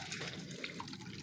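Water gushes from a pipe into a drum to fill it, a faint, steady rushing and splashing with no break and no voices.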